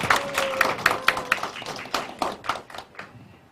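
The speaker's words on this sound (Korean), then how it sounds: "큰 박수로 모시겠습니다" Applause welcoming a former education minister to the podium at an eco-friendly agriculture policy forum, a modest number of separate hand claps at a steady beat that thin out and fade toward the end, with a faint tone underneath.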